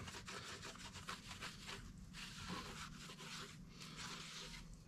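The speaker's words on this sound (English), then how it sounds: "we're just gonna give her a quick wipe down with some thinner again" Rag wiping with thinner across the mating surface of an engine cylinder head, a steady run of close, quiet rubbing and scraping strokes that continues without pause and with no talk.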